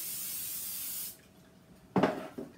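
Cooking spray hisses onto a baking pan in a steady, close burst for about a second before stopping, followed by a short clatter as the pan or dish is handled.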